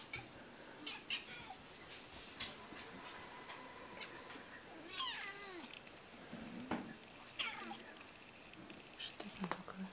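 A house cat meows repeatedly while hunting a mosquito indoors, several short, faint mews scattered across the clip over a noisy background with quiet whispering.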